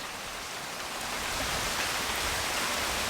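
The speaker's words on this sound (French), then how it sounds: "on voit la pluie." Rain falling outside a house under renovation, a steady soft hiss of drops that grows slightly louder toward the end, with no voices.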